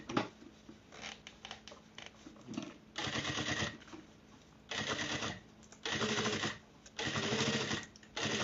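A sewing machine backstitches at the start and end of a seam on a double-zipper box pencil case with 0.5 cm seam allowance, running in several loud, steady bursts separated by short pauses and handling noises.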